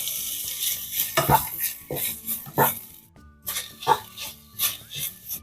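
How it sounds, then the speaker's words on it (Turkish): Soft scraping and clinking of a spoon against a pot as a stuffed grape leaf mixture is added to hot olive oil and stirred, in irregular bursts, with a faint sizzle underneath. "Ve karışımımızı yavaş yavaş tencereye koyuyorum"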